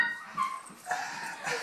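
A dog whimpers and yips softly in a few short, high-pitched whines, close and fairly quiet.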